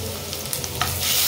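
Garlic frying golden brown in a pan for Malvani kaleji masala crackles with a dense, continuous sizzle up close, steady throughout with occasional sharper pops.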